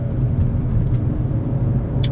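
Car driving around a course in third gear, a steady loud low engine drone with constant road rumble, close and uninterrupted.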